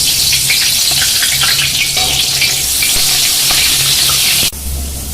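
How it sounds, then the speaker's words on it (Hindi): Onions fry in hot oil in a pan, a loud continuous crackling sizzle with bursts of stirring clatter, close up and alone, ending in a sudden drop in level. "देखिए तेल गर्म हो चुका है, अब इसमें डालेंगे सबसे पहले प्याज"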